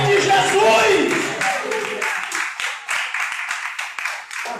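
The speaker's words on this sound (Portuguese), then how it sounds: "Dê uma salva de palmas para Jesus, querido" A church congregation claps together at a Portuguese-language service, steady rhythmic clapping that thins out into scattered claps as the crowd winds down, with a preacher's voice loud over the start.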